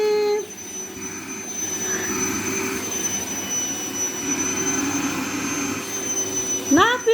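A child runs a vacuum cleaner across the floors of a house, a steady droning whine that continues throughout while someone talks nearby.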